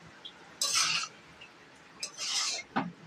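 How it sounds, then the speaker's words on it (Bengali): A spoon scrapes and tosses mixed fried rice with chicken, prawn and egg around a pan in two short, rough bursts and a final clink, close and fairly quiet with no talk. "এটা এবার নাড়িয়ে দেবো।"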